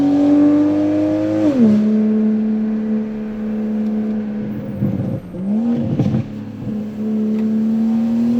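Engine note of a tuned Toyota A90 Supra on a mountain road, a loud steady drone that dips through a gear shift, then holds and shifts again with a growly edge.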